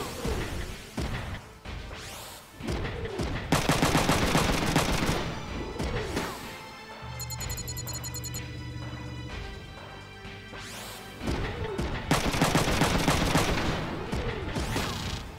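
Mechs in Front Mission 3 open fire in loud, crashing volleys of rapid gunfire. The bursts come in repeated clusters, broken by a quieter mechanical, whirring interlude in the middle.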